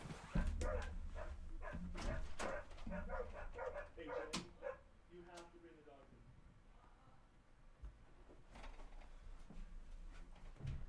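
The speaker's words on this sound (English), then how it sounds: "These dogs are driving me nuts." Several dogs bark in repeated bursts at medium distance, sharp overlapping barks with a few yips, while someone talks over and between them indoors.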